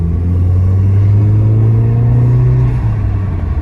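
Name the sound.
VW MK7 GTI with Integrated Engineering intake, diverter valve shutting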